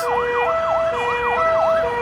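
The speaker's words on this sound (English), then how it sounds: "here comes another one. This is amazing. It's a fire truck, an ambulance" Fire truck and ambulance sirens wail in a fast, rising and falling pattern over traffic noise at a traffic circle, loud and continuous.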